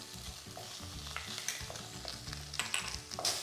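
Onions with ginger garlic paste fry gently in a pan as a spoon stirs and scrapes in repeated strokes, with a faint sizzle underneath, all quiet and close with no speech.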